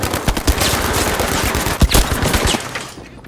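Dense, continuous automatic gunfire in the shooter Battlefield V, overlapping bursts and sharp cracks rolling for about three seconds before tapering off, loud and close with no talking.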